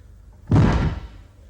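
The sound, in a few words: door slammed shut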